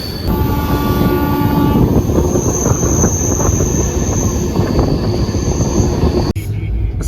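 A train running on a rail journey, with a steady loud rumble of wheels on track throughout, faint tonal squeals and horn-like tones early on, and a brief drop near the end.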